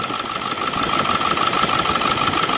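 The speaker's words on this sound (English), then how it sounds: "clutch fan is on" A 7.3 diesel engine in a Ford Excursion idles with its clutch fan engaged, giving a steady, close rumble with a rhythmic knocking clatter and a constant whirring tone.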